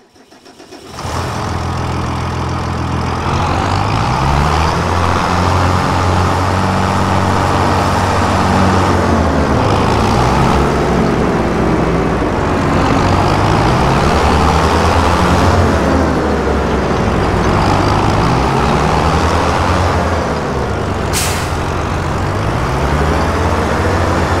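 A tractor engine in the Farming Simulator 25 video game starts up and settles into a loud, steady running drone with slow rhythmic rises and falls in pitch, heard alone without talk.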